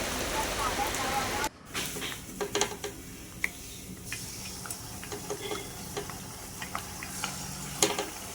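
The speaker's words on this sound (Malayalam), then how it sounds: "കുറച്ച് ചിക്കനൊക്കെ ഒന്ന് വറുത്തെടുക്കാനുണ്ടായിരുന്നു" Marinated chicken sizzles and fries in a pan, a soft continuous crackle broken by clicks and clatter of stirring, with a brief sharp drop in sound early on.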